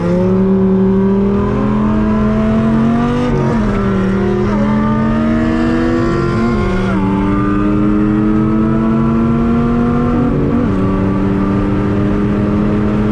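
An 8-liter Dodge Viper V10 race car with a big lumpy cam accelerates hard and loud. Its engine note climbs steadily, then drops sharply at each of several gear changes.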